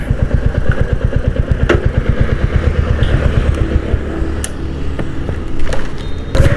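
A Royal Enfield Classic 350 BS6 motorcycle idles at a service centre with a loud, close, steady thumping beat and some mechanical clatter, plus a few sharp knocks around it.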